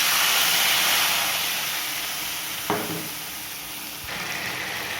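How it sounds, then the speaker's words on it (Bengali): Spice paste frying with potatoes in a pan while cooking dhoka dalna, a steady loud sizzle and hiss throughout with a brief stir or clatter near the middle and another near the end. "আলুগুলো দিয়ে মশলাটা কষানো হচ্ছে।"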